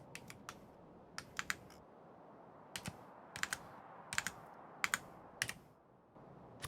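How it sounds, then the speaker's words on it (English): Quick bursts of computer keyboard typing, with irregular clusters of crisp key clacks spread over several seconds, close and fairly quiet against a low room hum. "I am fumbling all over the place with my keyboard today."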